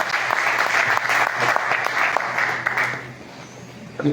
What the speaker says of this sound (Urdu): زوردار تالیاں ذرا بجائیے تاکہ موڈ بن جائے